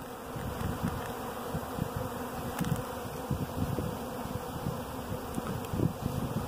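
Honey bees swarm and buzz densely around a beekeeper outdoors, a steady close drone with individual insects flitting past the mic, with no talking.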